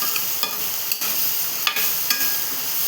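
Bhaji made from drumstick leaves is sautéed and stirred in a pan, giving a soft continuous sizzle broken by a few brief scraping clicks of the spatula, with no voices.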